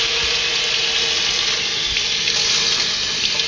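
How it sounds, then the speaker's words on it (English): Water runs steadily from a tap with a constant splashing hiss and no break, close by and fairly loud. "Rinse it off with cold water."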